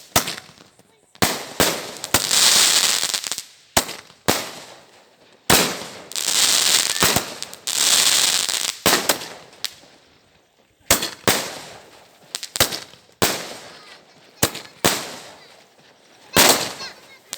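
Fireworks bursting in the sky at a wedding celebration: a long series of sharp, loud bangs, some followed by crackling hiss, spaced irregularly with brief quiet gaps.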